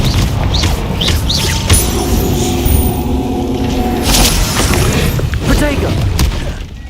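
A Confringo fire-blast spell in Hogwarts Legacy, booming bursts and crackling impacts amid busy battle noise, with a person's voice shouting over the action.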